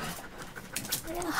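A German dog panting in short, breathy bursts close by, heard briefly beneath people talking.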